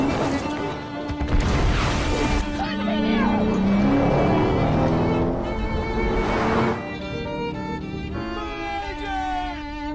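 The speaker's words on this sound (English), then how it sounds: "Car chases make movies better." Cars roar and rev loudly in a chase, with a smashing crash and a wave of metallic impacts, followed by squealing tonal sounds as the engines fade under a continuous din.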